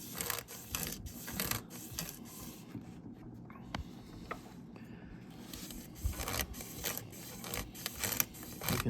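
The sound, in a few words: polishing an engine crank journal with wet/dry sandpaper on webbing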